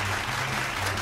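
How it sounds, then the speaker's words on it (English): Church-style gathering breaks into steady applause with a few cheers, a dense, even wash of clapping filling the whole second at close range. "Can we give him a round of applause?"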